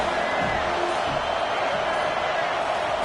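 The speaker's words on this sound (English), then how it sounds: "This crowd bringing the energy and noise early." A stadium crowd at an American football game sends up a broad, steady roar that fills the space, with an announcer talking over it.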